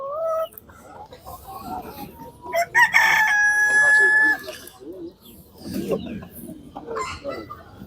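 A rooster crows loudly nearby, a long drawn-out call, with chickens and ducks clucking around it and people talking briefly at a poultry market in Tuzla, Istanbul.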